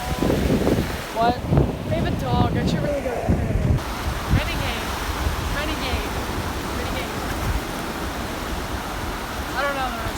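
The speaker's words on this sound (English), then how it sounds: "Look at the ocean." Ocean surf washes onto a beach at sunset in a steady, broad roar, with wind buffeting the microphone and a few voices talking briefly near the start.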